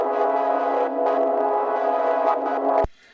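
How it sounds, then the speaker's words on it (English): The Sasquatch pad preset from the Massive synthesizer holds a dense, steady sustained chord with slight swells for nearly three seconds, then stops abruptly, leaving only a faint tail. "There's this pad here called Sasquatch,"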